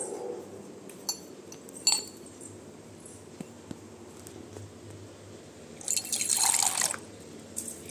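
Water poured into milk to thin it: a few faint clinks and drips, then a short, bright splashing pour of about a second near the end in a quiet room.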